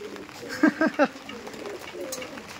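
Giribaj pigeons give a short run of three soft, close coos, followed by quieter murmuring amid faint background noise.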